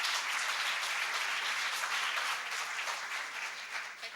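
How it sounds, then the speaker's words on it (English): An audience claps steadily at an awards ceremony after the silver awards are presented, a broad wash of many hands fading slightly toward the end, with no voices over it. "round of applause, go on"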